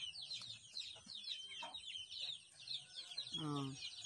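Chickens cluck close by at a small plant nursery, with a rooster's short call near the end, over a background of high chirping.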